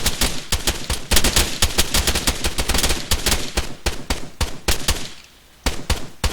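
Rapid gunfire at a shooting training session, dense bursts of sharp loud shots in quick succession, briefly pausing near the end before resuming, with no speech.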